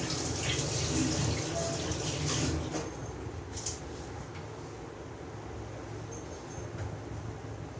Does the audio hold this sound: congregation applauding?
no